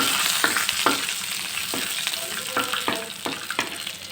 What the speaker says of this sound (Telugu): ఇందులోనే జీలకర్ర మనం ముందుగా జీలకప్పు ఇలా వేసి కొద్దిగా వేయించుకోవాలండి